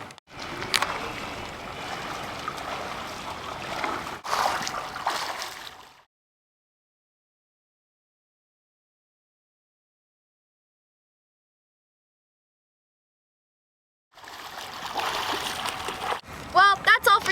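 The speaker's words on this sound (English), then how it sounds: "when I'm swimming, I push the water and the water pushes me" Water splashing from a swimmer pushing through the water, two bursts of sloshing and splashing separated by a long silence, close and moderately loud.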